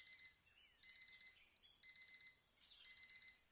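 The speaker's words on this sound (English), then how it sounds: "I'm going to sit, I'm going to let this ring for like a minute and see if anything happens." Electronic alarm clock ringing in the video game Routine, a bright beeping pattern in four-beep bursts repeating about once a second, fairly loud and close, with no voices.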